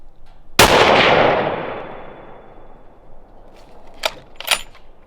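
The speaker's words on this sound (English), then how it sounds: "All right, I'm gonna shoot another. I'm gonna shoot 3." One sharp, loud gunshot cracks close by and rings out in a long decaying echo. Two quicker, fainter metallic clacks from the gun's mechanism follow a few seconds later.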